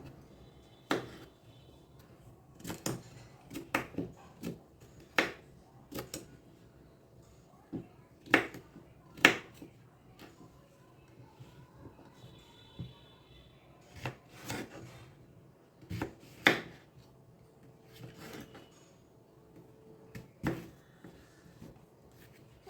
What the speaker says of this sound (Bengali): এটাকে এরকম এরকম আমি পিস পিস করে নিলাম